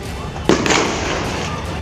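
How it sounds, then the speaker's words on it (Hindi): Gunshots fired during street clashes as police move to disperse protesters: a sharp loud crack followed by a second bang, over steady crowd noise and indistinct voices. "झड़प के दौरान गोलियां दागे जाने की आवाज भी सुनी गई।"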